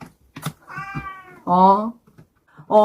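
A cat meows a few times indoors, the drawn-out calls loud and close, with short knocks and clicks in between.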